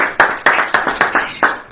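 A church congregation claps in a loose, uneven rhythm, about eight sharp hand claps close by, with no voices over them.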